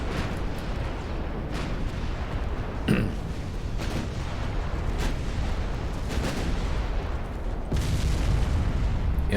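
A battleship explodes and sinks in a naval video game, heard as a steady low rumble broken by several muffled booms and crackling bursts spread through the stretch.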